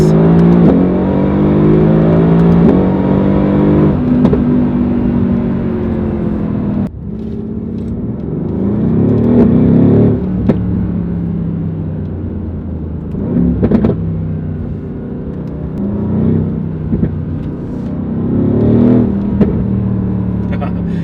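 A Mercedes-AMG GT R engine revs and rumbles loudly and steadily, swelling and easing in several surges, close by, with no talking.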